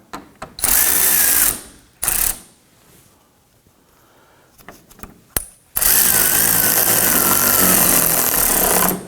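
A power drill drives fender liner screws on a 2018-2024 Toyota Camry, with a short run-up, a brief burst, then a long steady whine, loud and close, separated by quiet handling noise.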